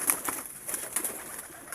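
Pigeons coo softly in a short burst, with faint, low murmuring calls heard at a distance against a quiet background.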